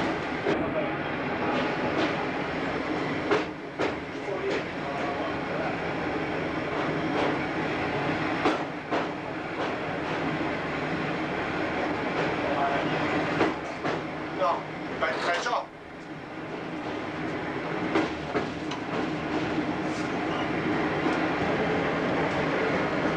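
A train crosses the old Újpest railway bridge, heard from the driver's cab: steady rolling rumble with repeated rail clicks and a brief dip partway through, continuous throughout.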